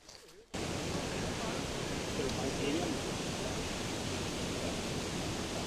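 Winter waterfall at Malham in the Yorkshire Dales, with snow starting to fall. A steady, dense roar of falling water begins abruptly after a quiet moment and continues unbroken.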